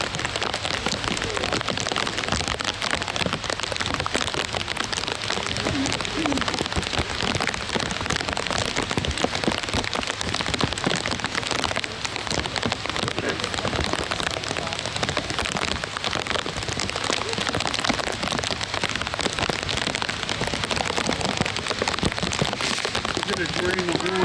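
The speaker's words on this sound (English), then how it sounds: "It's raining again." Steady rain falls throughout a Memorial Day event at a cemetery, a dense constant hiss of drops on surfaces, with voices talking intermittently underneath.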